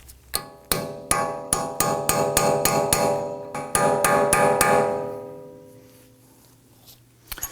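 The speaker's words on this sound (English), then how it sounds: "You're going to use a narrow chisel here, and you want to get underneath, and you will need to open this up so we can remove this nut." A hammer drives a narrow chisel under the axle nut lock tab on a 2018-2024 Toyota Camry rear hub. About fifteen sharp, ringing metal strikes come in a quick, uneven series, then the ringing fades to quiet and a couple of light taps follow.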